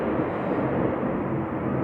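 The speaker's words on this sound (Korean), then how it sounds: "비행기 지나가는 걸 막을 수는 없습니다" A passing airplane heard as a steady, loud broadband roar that fills the whole short stretch without letup, with no voices over it.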